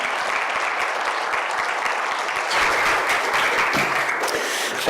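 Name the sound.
audience applause welcoming speaker Ben Jamison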